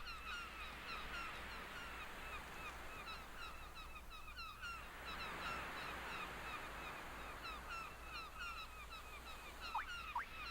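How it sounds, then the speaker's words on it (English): Seagull cries repeat over a steady wash of ocean surf in the video game Chocobo's Dungeon 2, the birds fairly close and the waves a constant low rush underneath. "Starting with the sounds of the ocean and seagulls."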